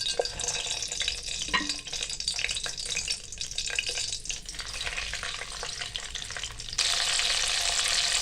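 Oil and melting butter sizzle steadily in a pot for chicken handi, a continuous close frying hiss with occasional stirring scrapes, swelling louder and brighter near the end.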